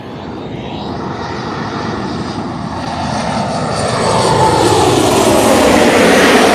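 A SmartLynx airliner arriving from Saarbrücken lands at Tenerife South Airport, its loud engine roar building steadily and drawing nearer as it approaches.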